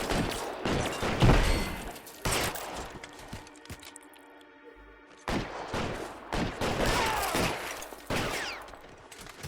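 Bursts of gunfire in the L.A. Noire police shootout game, several loud volleys of rapid shots separated by short lulls, with a brief quieter gap in the middle and a faint voice beneath.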